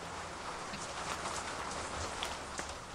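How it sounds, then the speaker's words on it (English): Steady night rain falling in a video game, a continuous even hiss with scattered faint drop ticks, moderately loud and unbroken throughout, with no talking. "Why is it raining every night?"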